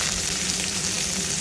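Onion sizzling in hot oil with garlic, a dense, even crackle up close and constant throughout, with no talking.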